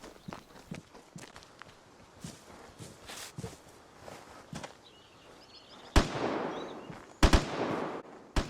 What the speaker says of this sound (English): Yeah, that was definitely footsteps.